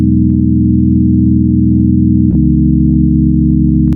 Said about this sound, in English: and we have a sine wave.